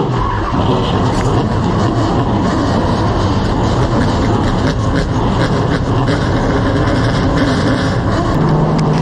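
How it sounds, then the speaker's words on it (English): Limited late model stock race cars fire up together at Florence for the South Carolina 250, a loud, dense, unbroken roar of engines that holds steady from start to finish. "Gentlemen, start your engine!"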